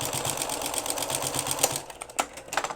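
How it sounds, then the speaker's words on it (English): A sewing machine stitches a diagonal seam across the corner of a pillow, its steady rapid needle chatter running loud and close for about two seconds before breaking into a few uneven bursts. "I'm going to stitch across diagonal about a 45-degree, about 1/16 inch away from that corner"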